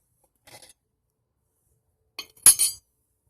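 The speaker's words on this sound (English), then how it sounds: "So now, take our pot. Set it right on there." Metal pot set onto a coffee can pot stand over an alcohol stove, a faint tick followed by a sharp metallic clink and a short rattle as it settles, in an otherwise quiet setting.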